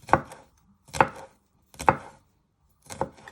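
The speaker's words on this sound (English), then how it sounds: "you just want to slice it into little pieces" Knife slicing food into little pieces on a cutting board while preparing Indian starters: four crisp, evenly spaced chops, each a sharp thud followed by a short tail, close and clear, with no talking.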